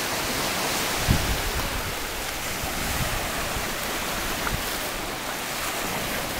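Steady surf and breaking waves wash continuously at a beach, a broad rushing roar with a few soft thumps, close and fairly loud, with no one talking.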